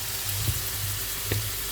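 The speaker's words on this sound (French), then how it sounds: "Et on va laisser cuire le riz. J'ai dit le riz, il faut qu'il soit marron." Rice browning in a pan, a steady broadband sizzle and crackle of frying with a few brief louder pops and low stirring scrapes, close by and continuous.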